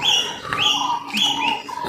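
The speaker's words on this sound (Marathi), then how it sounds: "आता ही खारुताई आहे," A squirrel near an old Shiva temple gives repeated high, bird-like chirps in quick bursts, fairly close and clear over light background ambience.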